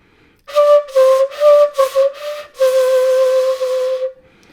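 A shakuhachi bamboo flute sounds sustained meri-lowered tones, first with inside blowing alone and then mixed with jaw-behind bending, in several breathy phrases that end in one long held note, clear and close.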